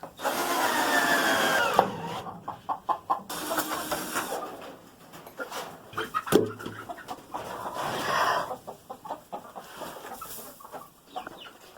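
Chickens clucking in a coop amid loud clattering and power-tool noise from roost building, with intermittent knocks and scraping; the birds sound close but partly buried under the work sounds.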